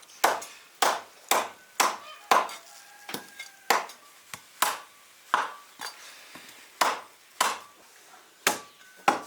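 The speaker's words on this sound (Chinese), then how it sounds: "先把那个鸡剁一下" A cleaver chops through chicken on a board in a steady series of sharp, loud thuds, about a dozen strokes spaced roughly every half second to one second, each blow ringing briefly before the next.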